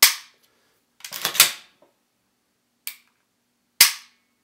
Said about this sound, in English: The trigger, let me show you how that feels.